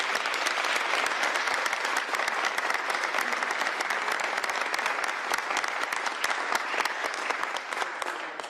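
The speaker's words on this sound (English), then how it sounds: "Give them all a round of applause." An audience gives steady, dense applause at a Washington bill signing on local tax options for public safety funding, many hands clapping continuously and close for the whole stretch without a break.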